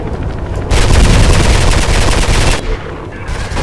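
Gunfire in the video game Mirror's Edge: a loud, sustained burst of rapid automatic shots lasting about two seconds, followed by quieter trailing noise. No voices are heard.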